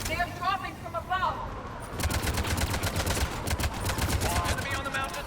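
Rapid gunfire from a firefight in the video game Mass Effect 3, a dense rattling stream of shots beneath game music and combat noise, with voices calling out during the first seconds.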